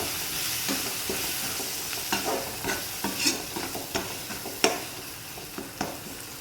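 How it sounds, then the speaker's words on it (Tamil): Curry masala being stirred into tomato and onion in a pan for bitter gourd kuzhambu, heard as a steady run of irregular scraping strokes from a spoon against the pan, with soft frying sizzle beneath and no voices. "அதையும் தக்காளி வெங்காயத்தோடு நல்லா மிக்ஸ் பண்ணுங்கள்"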